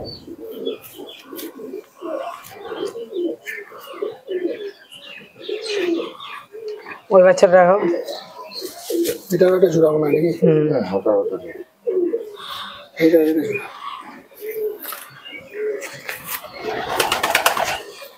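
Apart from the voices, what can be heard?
Pakistani teddy pigeons cooing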